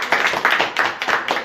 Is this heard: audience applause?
yes